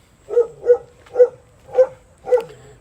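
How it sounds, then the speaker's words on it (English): A dog barks in a small village in Heilongjiang, five sharp barks at a steady pace, fairly near and loud, with no one talking. "those people obviously have the dog"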